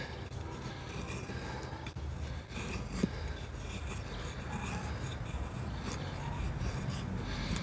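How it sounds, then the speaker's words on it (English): A knife shaves thin feather sticks from a piece of fatwood outdoors, making soft, continuous scraping and rasping close by over a steady background noise, with occasional faint clicks. "some fine feather sticking with this."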